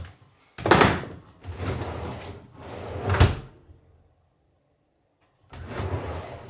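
A sliding kitchen drawer opens and shuts several times in a row, each a rumbling slide ending in a thump, close by and alone, with a silent pause before the last pass.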